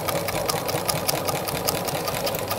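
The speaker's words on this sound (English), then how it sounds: "and sew it" A sewing machine stitches through layered plastic bags for a tote, running at a fast, even, continuous mechanical rattle that is close and loud throughout.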